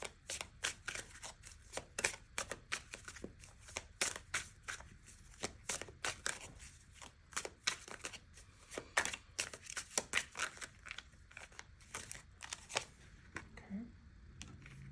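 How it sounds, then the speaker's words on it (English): Tarot cards are shuffled by hand in a steady run of soft, rapid riffling flutters that continues for the whole stretch. The sound is quiet and close up. "I'm going to start shuffling, get some cards out."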